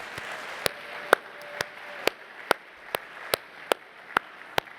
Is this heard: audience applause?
yes